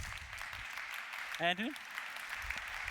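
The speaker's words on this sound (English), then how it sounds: "Round of applause." Steady applause from a keynote audience at a Celosphere conference, continuous crowd clapping with a brief spoken name over it.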